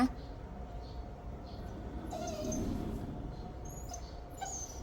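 A disabled dog that cannot walk whines and whimpers in thin, rising cries, wanting to follow its owner out, over a steady low background hum.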